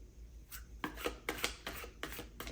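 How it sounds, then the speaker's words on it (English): Cardboard tiles from the Takenoko board game being shuffled on a table, a series of soft, close rubbing and scraping bursts in an irregular rhythm. "Next, shuffle these tiles here,"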